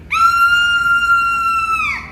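A woman lets out a long, sustained Hollywood-style horror-movie scream, as for a shower-murder scene, loud and steady, holding one pitch for about two seconds before trailing off, with no talk over it.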